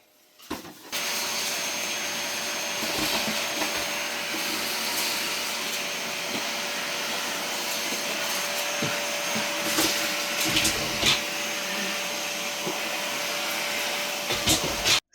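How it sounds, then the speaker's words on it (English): A household vacuum cleaner runs steadily and close by for the whole stretch, its motor roar broken by small rattles and clicks as debris is sucked up off the floor. "That's what it looks like when I'm vacuuming, picking up stuff from the ground"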